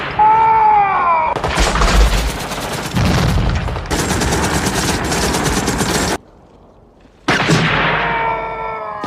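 Gunfire during a Vietcong attack in a Vietnam War film scene, loud bursts of rapid shots and booming blasts that stop abruptly for about a second before resuming, with shouting voices over the battle.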